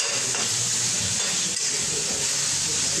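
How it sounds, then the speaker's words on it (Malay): Vegetables sizzle in a hot wok, a steady bright hiss that stays constant for a few seconds with no speech, loud while the vegetables are still wilting. "Sekarang bunyi bagi kuali sayur ni dah bunyi slow."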